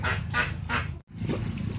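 Ducks quacking on a pond at a farm holding about 300 ducks in Bihar: three loud, rapid quacking bursts, a brief pause, then more busy quacking over a low hum.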